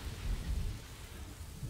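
Heavy rain and rumbling thunder in the game Kingdoms and Castles form a dense, steady downpour with a deep low roll of thunder swelling early on, heard alone.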